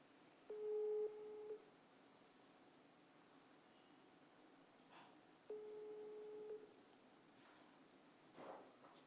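Phone line busy signal during an outgoing call, two faint beeping tone bursts about five seconds apart over a quiet hiss, with soft rustling in between.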